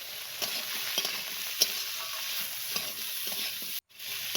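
Cauliflower pieces fry with salt and turmeric for a filled cauliflower chop, giving a steady close sizzle with soft scraping and stirring clicks throughout and a brief drop near the end.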